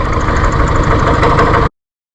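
A forklift engine labours under load as it pulls on a chain attached to a concrete hammer. The engine gives a loud, close, steady rumble for under two seconds and then cuts off abruptly to silence.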